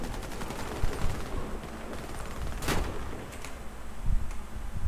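Gunfire in the Warface shooter during a clan war match, a steady stream of rapid rifle shots rattling throughout, with a few sharper cracks standing out, with no talk.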